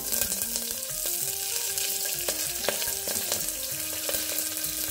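Mustard seeds, dried red chillies, cumin, green chillies and curry leaves crackle and sizzle in hot oil, a dense steady frying hiss with sharp pops, heard alone and close.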